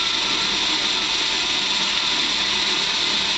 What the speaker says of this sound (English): I'm widening up the top of the T-slot with a mill cutter